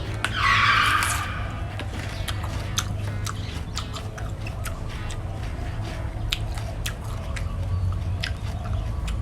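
Giant dragon egg melon, peeled, bitten and chewed close up, a burst of crisp crunch at the start followed by steady wet chewing clicks over a low background hum.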